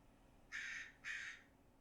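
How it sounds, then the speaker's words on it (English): An American crow call is played back quietly, two harsh, raspy caws in quick succession against a near-silent background. "That sounds like a crow."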